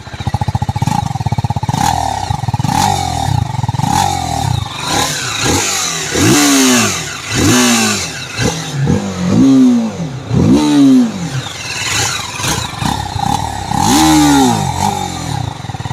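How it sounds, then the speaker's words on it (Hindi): A TVS Apache RTR 310 single-cylinder motorcycle engine revved repeatedly, each blip rising sharply then falling back toward idle, loud and close, in a series of quick throttle bursts. "let me rev it up"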